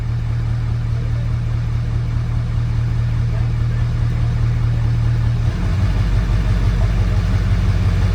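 A Ford 7.3L Powerstroke diesel engine idles steadily in whisper mode, a close, even low rumble that shifts slightly in pitch partway through and continues without pause.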